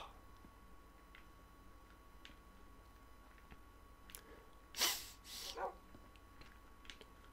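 A dog gives two or three short barks at a moderate distance, a brief burst against a quiet, humming background.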